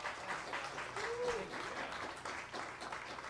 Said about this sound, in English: How about a round of applause for our amazing band?